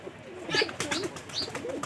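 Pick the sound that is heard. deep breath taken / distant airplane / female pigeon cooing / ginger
female pigeon cooing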